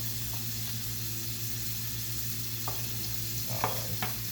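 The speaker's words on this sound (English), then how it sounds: "I am going to cook my onions and peppers over here in this separate one." Onions and peppers frying in a separate pan give a steady, even sizzle and hiss throughout, with a few soft clicks and scrapes of stirring near the end, fairly close and with no talking.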